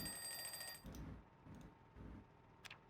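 Alarm clock ringing in the game Project Zomboid, a high, thin electronic tone held steady for under a second and then cut off, leaving quiet room ambience with faint low thumps and one brief click.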